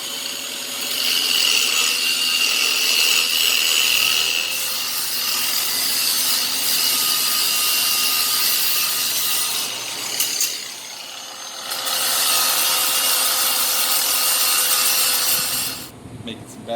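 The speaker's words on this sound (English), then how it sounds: "start using my new Ryobi grinder" A Ryobi grinder steadily abrading paint off a metal frame, a sustained, loud, harsh whine and rasp that dips briefly around the middle before continuing, then cuts off near the end.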